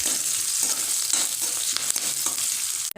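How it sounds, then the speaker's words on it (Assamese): Onion and green chillies sizzle steadily in hot oil in a pan, a loud continuous crackling hiss with a few stirring scrapes and a brief clunk at the end. "আৰু এইখিনি এতিয়া মই অকণমান ভাজি ল'ম"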